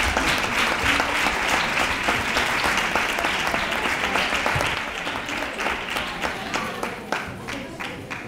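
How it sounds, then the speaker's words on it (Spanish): A crowd applauds steadily and loudly throughout, dense clapping from an audience at a Three Kings parade proclamation and crowning event in Nerva, thinning slightly toward the end. "Fuerte el aplauso para ella."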